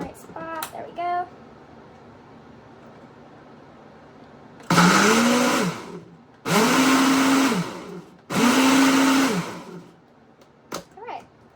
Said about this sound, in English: This is a pretty good blender.